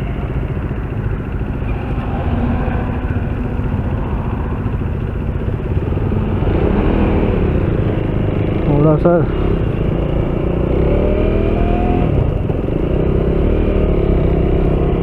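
KTM Duke 390 motorcycle engine running steadily while riding, a continuous loud mid-range drone with wind buffeting, a voice speaking briefly over it partway through.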